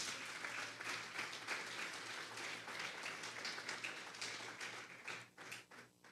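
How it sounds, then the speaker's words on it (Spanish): A congregation at a Sunday church service claps loudly in praise of the Lord, a full, sustained applause that tapers off in scattered claps at the close. "Denle un fuerte aplauso pues al Señor"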